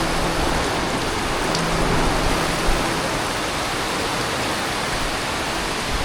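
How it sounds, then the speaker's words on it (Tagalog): Heavy rain pours down in a dense, steady roar with no letup, loud and close, with no talking over it. "Ang lakas ng ulan guys."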